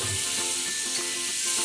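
Tomatoes dropped into a hot pan of browned spices for Kerala chicken chukka, giving a loud continuous bright sizzle with soft stirring scrapes underneath, no voices.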